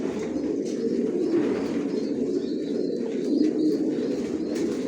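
Racer pigeons coo inside a breeding loft holding about 180 pairs, a continuous low, overlapping chorus of soft throaty calls from many birds at close range, with no talking.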